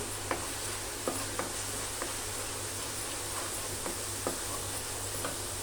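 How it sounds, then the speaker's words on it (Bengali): Spices for a vegetable curry frying in a pan with a steady soft sizzle, while a utensil taps and scrapes at irregular intervals as it stirs, quiet and close with no talking. "মশলাটাকে কষিয়ে নিই।"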